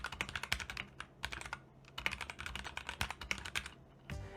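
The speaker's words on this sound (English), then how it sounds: "I did a typing test" Fast typing on a cheap 60% mechanical keyboard with Cherry MX red switches, a close, quiet run of soft rapid keystrokes with brief pauses.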